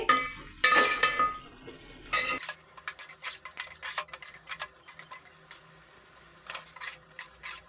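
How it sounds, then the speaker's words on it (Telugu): Biryani masala powder is stirred into chicken frying in a pan. A utensil scrapes and clinks against the pan in quick irregular strokes after an opening stretch of sizzling, close and moderately loud. "ఇంకో పావు టేబుల్ స్పూను బిర్యానీ మసాలా పొడి వేసి ఒక టూ మినిట్స్ అనేది ఈ ఫ్రై అయినంత కూడా కలుపుకోవాలి"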